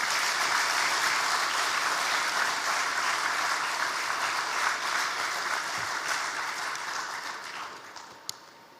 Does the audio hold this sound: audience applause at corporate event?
yes